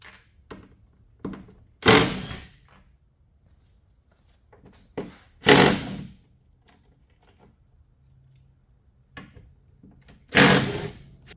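Upper bracket bolts on a Ford Bronco are worked loose with a 13mm socket, giving three short, sharp bursts of mechanical rattling spaced a few seconds apart, with faint clicks and handling noises between them.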